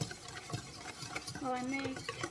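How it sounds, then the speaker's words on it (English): Quick, steady whisking in a bowl, a close scraping and clinking rhythm with faint ringing from the utensil against the sides. "I'm just going to whisk it."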